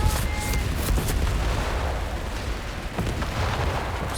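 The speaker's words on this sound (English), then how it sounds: "Designated artillery overwatch there to hold on to this position" Continuous rumbling artillery barrage in Company of Heroes 3, a dense wash of booms and bursts with a few sharper hits standing out, steady and loud throughout the battle.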